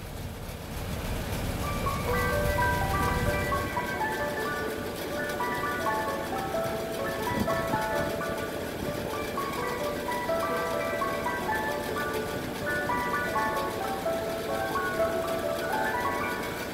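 An ice cream truck plays its jingle continuously, a bright repeating melody sounding fairly close, with a low rumble early on and soft background noise throughout.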